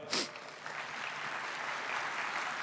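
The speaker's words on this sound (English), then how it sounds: "can we give Nancy a round of applause" Applause for Nancy Brown, a CEO, rises in a room at a stroke-awareness event and holds steady as a moderate, continuous patter of many hands, with a brief louder burst at the start.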